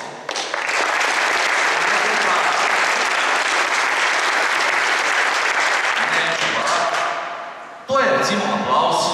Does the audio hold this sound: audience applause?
yes